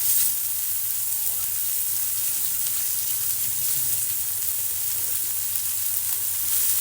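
Chopped dill greens fry in a pan for a village-style dry dish with peanut powder, giving a loud, steady sizzling hiss that continues unbroken at close range.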